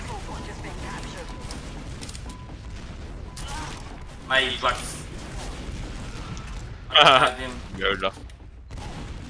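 Gunfire rattles in a Team Fortress 2 match, scattered bursts of shots and booms mixed with game noise, with a voice speaking briefly over the action.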